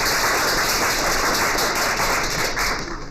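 An audience at a Kotlin tech talk applauds a speaker: a dense, even wash of many hands clapping, loud and continuous, thinning slightly at the end.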